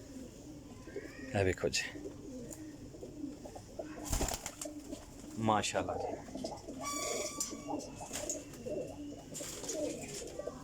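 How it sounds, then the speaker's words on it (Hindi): Golden pigeons at a pigeon loft, soft repeated coos and rustling heard at close range and fairly faintly. Someone talks intermittently over them, and there are a few sharp knocks and a short burst of higher chirping. "गोल्डन कबूतर"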